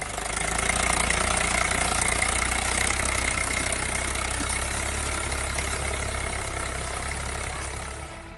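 A tractor driving over a ripe cabbage crop in a farm field in Samastipur, Bihar, its engine a steady, loud drone with low rumble that runs the whole time without talk.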